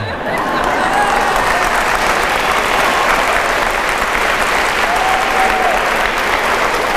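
Audience applause fills the hall at a talk on family mistakes, a loud, steady wash of clapping from a large crowd that continues unbroken throughout.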